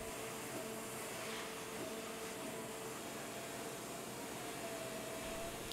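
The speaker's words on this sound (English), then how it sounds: "a single hole is countersunk to accept a wood screw using a single flute high-speed steel tin coated countersink" A VMC milling machine countersinks a single hole for a wood screw with a single-flute, tin-coated high-speed steel countersink, giving a steady, even whirring hum with faint tonal whine and no pauses.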